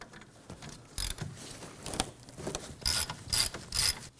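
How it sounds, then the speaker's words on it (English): A ratchet with a 14mm socket loosens the caliper bracket bolts on a 2016-2020 Kia Sorento, giving several close, loud clicking bursts with quiet pauses between them and no talking. "using a 14mm socket, go ahead and remove both of these bolts"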